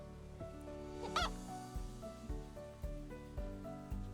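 Chickens being caught in Tan Trieu, Vietnam, squawk and cackle in loud bursts, with one sharp, rising shriek near the start and shorter clucks that keep breaking out after it.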